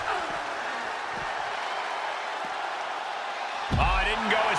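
Arena crowd noise from a WWE 2K wrestling video game, a steady dense roar of cheering that holds throughout, with a louder thump and burst near the end.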